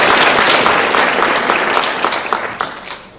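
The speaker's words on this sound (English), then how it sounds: "A big round of applause for all of them." Audience applause fills a hall at a regional spelling bee, dense steady clapping from many hands that gradually thins and tapers off toward the end, with no voices over it.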